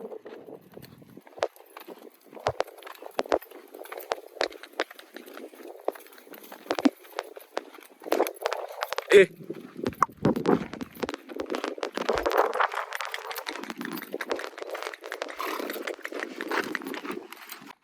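A mare's hooves clip-clop in an uneven walking rhythm as she is led home from the farm field, close and fairly loud, with brief faint voices and some rustling mixed in.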